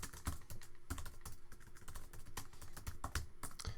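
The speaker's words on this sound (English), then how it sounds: "So you just type away in here." Rapid typing on a computer keyboard, with irregular clicking keystrokes and a few louder key hits, close and clear with no talking.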